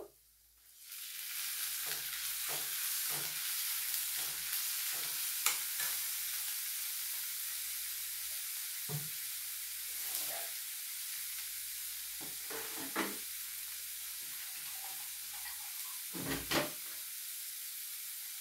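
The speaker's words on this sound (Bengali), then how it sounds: "আদা রসুন পেস্ট দিয়ে দেব।" Ginger garlic paste fries in oil in a pan for a fish curry, a steady low sizzle running throughout with intermittent scraping stirs and a few louder clinks near the end, no talking.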